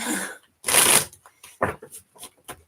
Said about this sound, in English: bear with me while I shuffle these cards